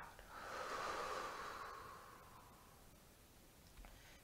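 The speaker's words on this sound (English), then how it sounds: "Big breath in. Big breath out." A slow, deep pranayama breath drawn in and let out during a yoga session, a soft airy rush that swells and fades over a few seconds, heard close and alone.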